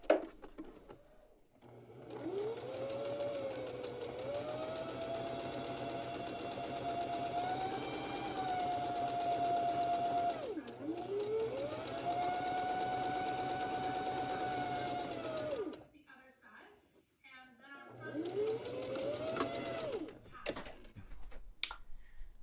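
A home sewing machine stitches a second row along a folded pocket edge on wrap pants in two long steady whirring runs and a shorter third, each rising and falling in pitch, close and fairly quiet.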